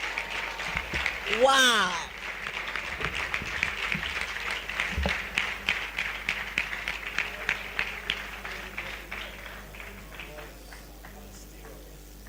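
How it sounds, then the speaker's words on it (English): Audience applause after a poem about leadership, a sustained crowd clapping that gradually thins and fades, with a voice exclaiming over its start and a high whoop near the beginning. "Please, another round of applause."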